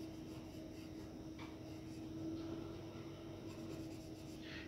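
A dark pencil shades paper in a drawing, making a soft continuous scratching close by over a faint steady background hum, with no talk.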